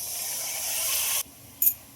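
Water poured into a hot pan of frying capsicum for chilli paneer bursts into a loud, steady hiss that cuts off abruptly, followed by a short sharp spurt of sizzling.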